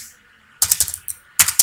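Keys on a computer keyboard are pressed for a shortcut, a few sharp, close clicks in two quick clusters after a brief quiet start.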